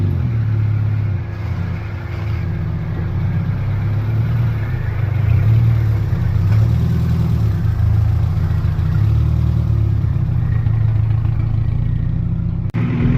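An old truck engine idles on a cold start, a steady low rumble with mild swells as it is revved gently, running alone and close throughout.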